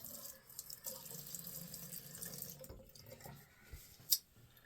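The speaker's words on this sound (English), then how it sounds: "Let me wet my face." Tap water runs and splashes into a sink while a man wets his face before shaving, a steady close wash of flowing water with brief drips and one sharp splash near the end.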